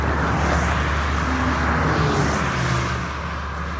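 Cars speeding past on a road in the dark between Pointe-Noire and Dolisie, a steady loud roadway rumble with a rising and fading whoosh of passing vehicles, no voices.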